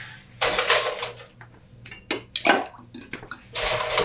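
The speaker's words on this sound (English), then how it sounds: "Ice our drink." Ice is scooped and added to a vodka tiki cocktail, producing several bursts of rattling, clinking cubes against a glass and scoop, close and fairly loud, with short pauses between each pour.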